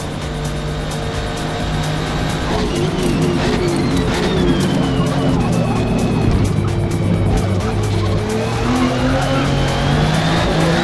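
On a racing circuit, a V6 twin-turbo AMG Black Series and another race car roar loudly in close, continuous engine noise, with rising and falling pitches as one car overtakes, plus tire squeal and a voice talking underneath.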